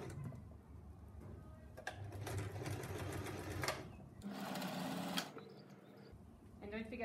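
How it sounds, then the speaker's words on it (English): A sewing machine runs in bursts while stitching scrunchie fabric, speeding up and pausing as it sews forward and back; the steady mechanical whir sits close and fairly loud, with a voice talking over parts of it. "So just sew forwards a few stitches, then remember to go backwards, and then forwards again."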